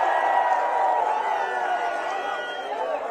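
Crowd at an outdoor Telugu Desam Party political rally in Gurajala, a steady wash of clapping and cheering with mixed voices throughout, no single speaker standing out.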